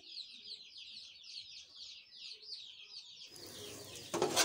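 Rapid, repeated bird chirps chatter steadily from outdoors for several seconds, followed by a rustling clatter close by.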